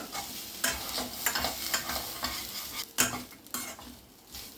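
Coconut being stirred and lightly roasted in a pan gives a steady dry sizzle, broken by repeated scraping strokes of a spoon. The strokes are close and moderately loud, and no one talks.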